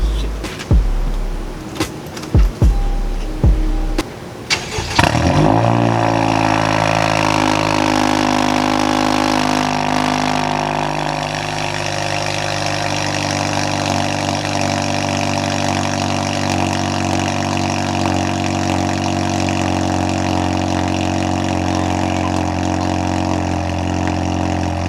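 A Honda Civic Hatchback with a Megan Racing downpipe cold-starts, cranking with a few short clicks, then catching and roaring to life, settling into a loud, steady idle that runs on alone.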